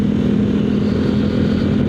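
A Yamaha Mio Gravis V2 scooter engine drones steadily and close by while riding in traffic, a constant low rumble with no talking.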